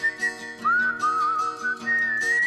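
Someone whistles a lively tune alone: a clear, strong melody that glides and sustains through varied pitches with steady breaths and no talking.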